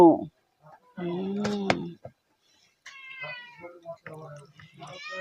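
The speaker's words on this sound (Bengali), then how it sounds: "এখানে বিড়ালগুলো বসে আছে" Cats at a beach camp meow several times at close range, in short tonal cries separated by pauses, with people's voices around them.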